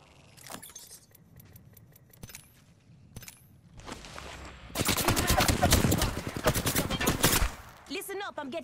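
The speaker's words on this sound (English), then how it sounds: "I'm getting shot at" Gunfire in Apex Legends: scattered single shots at first, then a loud, sustained burst of rapid automatic fire in the middle, followed by a final short burst, with some in-game sounds between shots.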